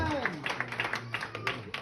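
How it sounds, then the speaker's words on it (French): A church congregation claps during an evening service, with a quick run of uneven handclaps over a short stretch, mixed with a voice and musical tones underneath. "Applaudissons la présence de Dieu ce soir."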